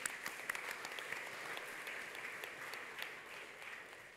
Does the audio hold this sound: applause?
yes